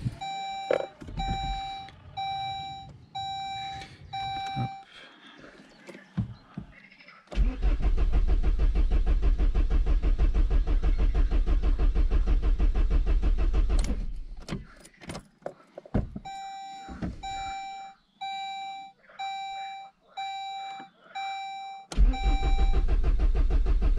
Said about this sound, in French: Ça va pas forcément démarrer au quart de tour, il faut le temps de ramorcer tout quand même.